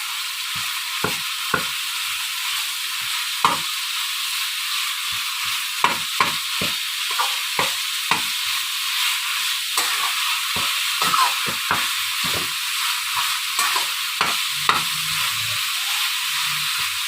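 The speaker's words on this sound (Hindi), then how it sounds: "कीमे को हम अच्छे से फ्राई कर लेंगे ताकि ये पिंक से वाइट की तरफ चला जाए।" Minced beef keema frying in a pan lets out a constant bright sizzle, and a spatula scrapes and taps against the metal in frequent, irregular strokes, close and clear, with no talk.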